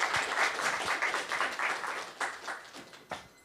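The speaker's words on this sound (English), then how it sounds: "could we have one more round of applause for our speaker?" Audience applause for a speaker at the JuliaCon Global 2025 conference, a steady wash of many hands clapping that swells in waves and then tapers off, with no talking over it.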